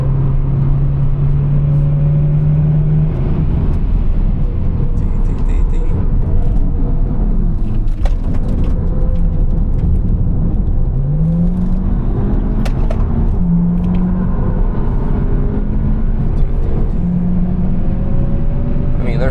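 Skoda Superb driven hard on the Nürburgring, heard from inside the cabin: the engine note rises and falls through gear changes over a constant road and tyre rumble.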